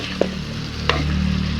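Meat curry with spices frying in a pan and being stirred, a steady sizzle underneath with two brief scraping stirs, close and moderately loud, no talking.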